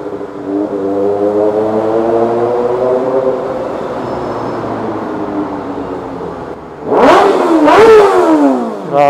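A 2024 Kawasaki ZX6R motorcycle with aftermarket headers and exhaust revs loudly close by, holding a rising whine before two sharp throttle blips near the end.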